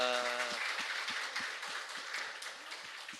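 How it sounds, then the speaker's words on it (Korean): A church congregation claps during a Sunday worship service, a light scattering of applause that follows a sustained tone and fades gradually, heard at a distance and fairly quiet. "우리 박수 한번 주십시다"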